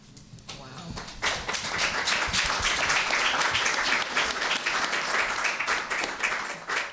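A crowd applauds panelists at an activism discussion, the clapping starting faint then rising sharply to a loud, dense, sustained round of many hands, with a voice briefly audible at the start.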